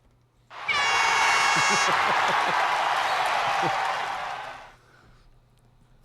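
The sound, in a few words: studio audience applause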